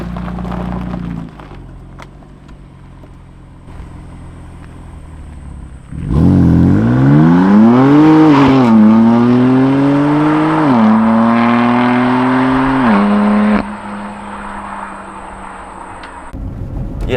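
BMW F81 M3 Touring heard from inside, idling at first, then accelerating hard with a rising engine roar through several gear changes before settling back to a quieter drone.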